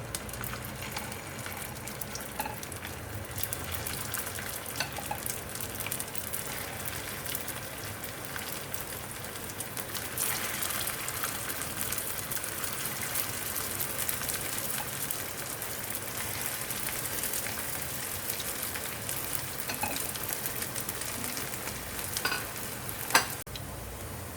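Ragda patties frying in a few tablespoons of hot oil in a pan give off a continuous, close, rain-like sizzle with small crackles and pops, steady and unbroken, with no talking.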